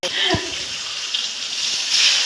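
Hot water pours into a sizzling egg paneer curry with a sudden splash, then a sustained gushing, bubbling hiss as the liquid meets the hot pan.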